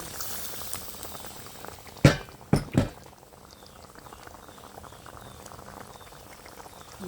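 A pot of water for egg curry simmers and bubbles steadily at close range, with a few sharp pops or clatters near the middle; no voices.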